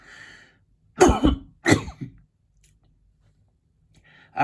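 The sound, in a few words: cough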